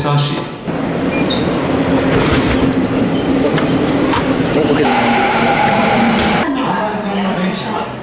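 A Tokyo subway train rumbles along steadily with rattling and screeching wheels, loud and close, while people talk over the noise.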